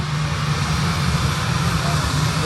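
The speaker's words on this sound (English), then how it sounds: "Jet 2 A321 coming in" A Jet2 Airbus A321 jet on approach to land at Manchester Airport gives a steady, broad engine roar with a low hum, moderately loud and sustained throughout.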